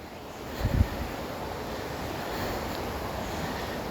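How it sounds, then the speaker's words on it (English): A large river swollen by flooding, running beside a house, makes a steady, faint, even rush in the distance, with a slight swell near the start and no voices. "Do you guys hear the roaring river in the background?"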